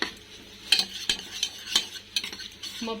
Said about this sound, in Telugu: అల్లం వేసుకున్న తర్వాత ఒకసారి మంచిగా కలపండి ఫ్రెండ్స్